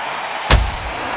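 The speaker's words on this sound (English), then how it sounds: "Beautiful counter shot." A single heavy thud of a counter punch landing in a boxing video game, one sharp impact with a low booming tail, loud against a steady background hiss.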